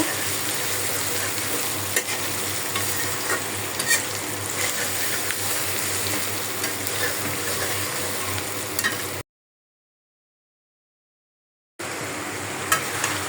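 Eggs frying with turmeric, potato and onion in a pan, a loud, continuous sizzle with stirring scrapes, broken by a few seconds of silence before the sizzling resumes.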